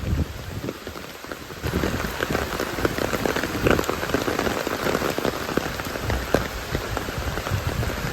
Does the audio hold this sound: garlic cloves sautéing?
no